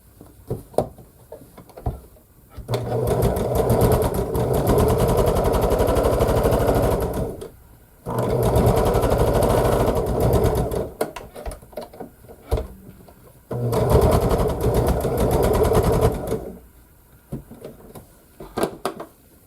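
A sewing machine stitching quilt pieces together for a scrappy quilt, running in three sustained bursts of rapid mechanical whirring, each several seconds long, separated by quiet pauses with light handling noises, close and loud.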